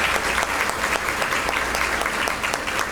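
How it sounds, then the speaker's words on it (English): An audience at an educator excellence awards ceremony breaks into applause, many hands clapping together in a loud, full, even burst with a few sharper claps standing out. "That is important and deserves a round of applause."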